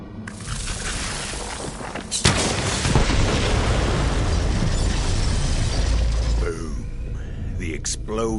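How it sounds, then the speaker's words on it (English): A heavy booming explosion from set bombs in Borderlands 3 rumbles on for several seconds with crackling debris, then fades into quieter mechanical noise and a voice. "The explosion echoed through the forest"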